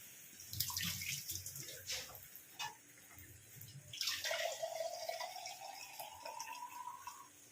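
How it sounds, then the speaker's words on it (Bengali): Water poured into a pan of paneer curry simmering with cumin and tomato, a bright rising pour lasting a few seconds after scattered clinks and stirring, close and moderately loud with no talk. "এরপরেতে ঝোল অনুযায়ী জল দিয়ে দেবো।"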